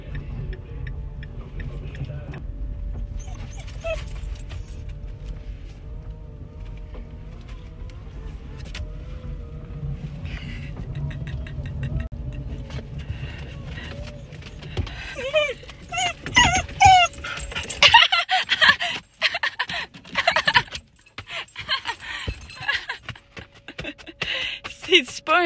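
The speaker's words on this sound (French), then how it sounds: "C'est pas un chien excité, ça?" An excited dog whimpers and yips near the end, after a long stretch of car-interior rumble, with high squeals in quick bursts close by.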